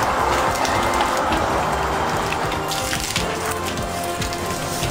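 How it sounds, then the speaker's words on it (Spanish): Rain falling steadily, a dense wash of patter and scattered drips continuing throughout with no talk. "Ay, está lloviendo muchito ya."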